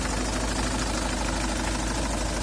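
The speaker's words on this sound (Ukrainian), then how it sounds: "Нема постороннього звуку якогось в моторі" A cold Volkswagen Passat B engine with 178,000 km idling steadily with a low, even rumble and slight rattling, constant and close, with no other sounds.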